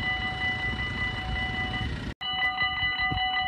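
A train runs past at a station in Susteren, with a steady loud rumble and tonal hum, then a sharp break and a fresh burst of whining, clattering rail noise.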